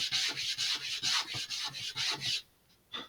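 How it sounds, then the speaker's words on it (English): A fin for an Estes Loadstar II model rocket is sanded in about eight quick, even back-and-forth rasping strokes, close by, then the sound stops with one last short scrape. "like me sanding this side"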